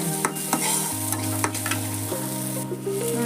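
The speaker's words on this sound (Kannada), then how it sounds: "ಮಸಾಲ ಹಾಕೋತೀನಿ ರೀ ಸ್ವಲ್ಪ ಫ್ರೈ ಮಾಡ್ಬಿಡ್ರಿ" Masala fries in a pan for a cluster bean (chavalikai) palya, a close, steady sizzle broken by scraping stirs and a few soft knocks, over a low background hum with no talking.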